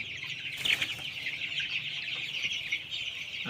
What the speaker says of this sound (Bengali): মুরগিগুলো বাচ্চা এখন সবগুলো সুস্থ আছে